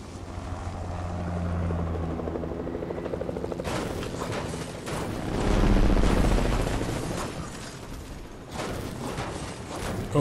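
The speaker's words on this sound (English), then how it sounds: "Should we take the helicopter?" Helicopter in a video game, a rhythmic rotor thump and engine drone that swells louder midway, heavy and continuous throughout with wind noise mixed in.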